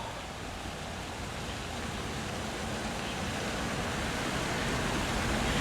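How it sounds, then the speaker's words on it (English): Steady, dense rush of a fairly large waterfall near a statue in Hot Springs, South Dakota, loud and constant throughout with no voices. "a little ways down from that statue is a fairly good size"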